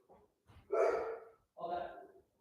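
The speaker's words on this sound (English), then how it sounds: "my dogs were barking" A few short dog barks and yips in a home, with one faint sound followed by two louder barks, quite close but recorded at low level.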